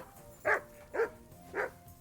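A dog in the medieval role-playing game Kingdom Come: Deliverance II gives three evenly spaced, fairly loud barks over a quiet background, with no one talking.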